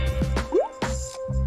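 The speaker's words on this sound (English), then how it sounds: "Now for the food coloring. I'll just pour some of it into the bottle." Liquid food coloring poured into a plastic water bottle partly filled with soapy water, giving a few close, distinct drips and plops with a short gurgling glide between them, heard with nothing else.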